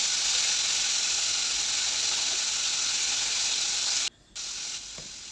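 Tiger prawns fry in mustard oil with turmeric and salt, giving a loud, steady, close hiss that dips briefly near the end and then continues more quietly.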